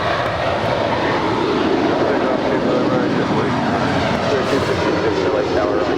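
Airplane taking off from runway 25 right at Los Angeles International Airport, a loud, steady broadband engine roar filling the whole stretch without letup.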